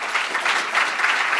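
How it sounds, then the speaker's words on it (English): An audience at a closing keynote session claps together in a dense, even burst of applause, steady and moderately loud throughout. "So give yourselves a hand of applause."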